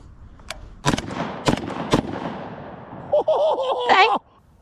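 Three rounds of .308 are fired from a rifle with a 20-round magazine, giving sharp, loud cracks spaced under a second apart, followed by a burst of excited voices.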